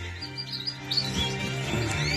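Norwich canary hybrids chirp in a cage, with scattered short tweets and calls over a low background hum.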